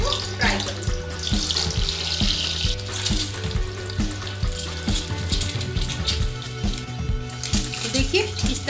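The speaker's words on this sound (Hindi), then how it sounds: "अब मैं एक एक करके अंडा इसमें डालूंगी और इसको फ्राई करूंगी।" Eggs frying in hot oil in a kadhai, a continuous crackling sizzle with sharp spatters and pops, close and steady throughout, with light clinks of a utensil against the pan.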